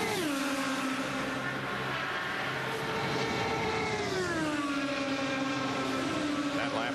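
IndyCar race car on a warm-up lap at Indianapolis during 2017 Indianapolis 500 Bump Day, its engine a steady high-pitched whine that rises and falls with gear and speed changes, loud and sustained throughout with no talk.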